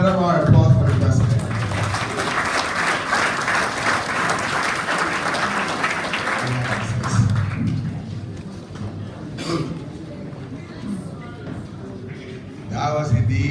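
Audience applause for a president at a Peace Corps swearing-in ceremony, a strong burst of crowd clapping that fades after about seven seconds into room noise with voices and coughs.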